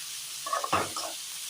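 Bitter gourd frying in a pan with salt, giving a short burst of sizzling and a brief stirring scrape, close and moderately loud over steady background hiss.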